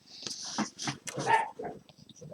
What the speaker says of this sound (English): the dogs want to chime in